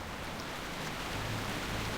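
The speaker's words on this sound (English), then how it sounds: "and it's pissing down with rain" Steady rain hiss from World of Warcraft Vanilla, a broadband wash of falling rain with a faint low hum underneath, constant throughout without speech.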